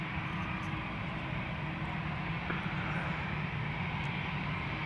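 An Air Arabia Morocco airliner departing Amsterdam Schiphol for Nador, heard as a moderate, continuous jet rumble with a low broadband hiss and no talking.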